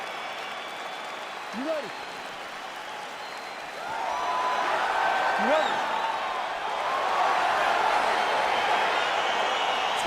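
Arena crowd noise from EA Sports UFC 4 swells into a steady cheer as a fight between Bruce Lee and Jessica Gonzalez begins, with a voice speaking over the roar.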